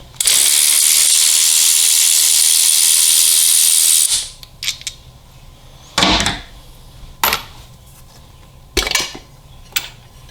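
A ratchet removing a bolt from a Harley-Davidson Milwaukee-Eight (M8) engine during cam removal: a loud, sustained whirring buzz runs for about four seconds, then several sharp metallic clicks and clanks follow at intervals.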